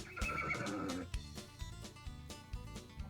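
A horse whinnies at a fairground horse show stadium, one loud shaky neigh falling in pitch over the first second, followed by quieter snorting and shuffling.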